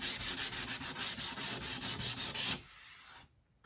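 Sandpaper rubbed over the sharp corner of a door in quick, even back-and-forth strokes, close and steady for a couple of seconds before stopping and going quiet.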